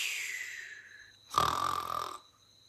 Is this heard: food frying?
no